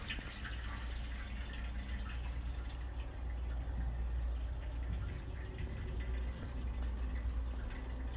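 Running water trickles and drips in the video game The Casting of Frank Stone, a faint, steady flow with scattered small drips over a low ambient rumble.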